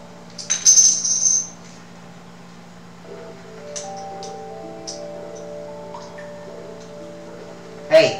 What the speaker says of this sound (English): Let me just get the dice.